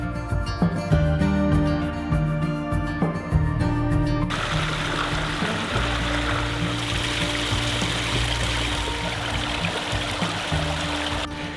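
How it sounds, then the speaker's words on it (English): A babbling brook beside a trail in Branson, Missouri, burbles and trickles close by, a continuous wash of flowing stream with faint musical tones in the first few seconds. "We're now meandering next to like this babbling brook beside me here"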